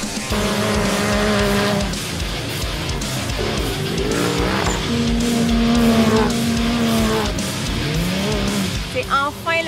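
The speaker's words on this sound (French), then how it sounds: "On entend les moteurs" Race car engines rev and roar continuously at the Red Bull Sand Scramble on sand dunes, with tyre squeal and a crowd under the engine noise, and voices talking throughout.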